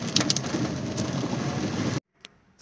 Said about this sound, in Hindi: बारिश वैसे हमेशा अच्छी लगती है